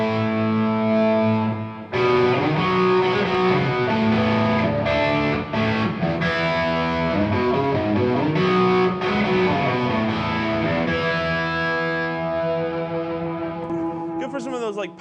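An electric guitar played through a Reverend Drivetrain 2 overdrive pedal gives thick, distorted chords and sustained notes, loud and close, with a few short breaks and no talk.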